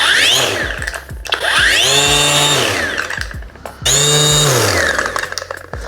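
An Erbauer V2 brushless sander's motor spins up and winds down twice in a row, each run a loud whining rise and fall, close by with no speech.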